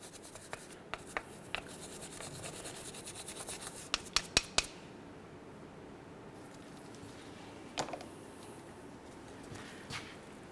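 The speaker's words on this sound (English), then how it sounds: "I like to use a nice brass brush, and I'm just going to go ahead and clean this down" A brass wire brush scrubs rust off a brake caliper bracket on a 2005-2010 Chevrolet Cobalt, close, raspy rubbing strokes with a few sharp metallic ticks and knocks in between.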